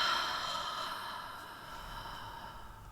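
A deep, drawn-out exhale during a guided breathing exercise: a soft, breathy rush of air that starts strongest and slowly fades over about three seconds, close and alone.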